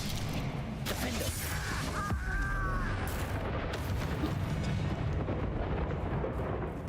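Spell explosions blast through a mine in the Hogwarts Legacy video game, a dense rumbling barrage of booms and crackling bursts that stays loud and continuous throughout, with game effects layered on top.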